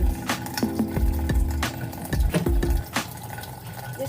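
Tap water runs steadily over hands during a surgical scrub at a sink, with splashing and dripping and a few louder splatters as the hands move through the stream, close by.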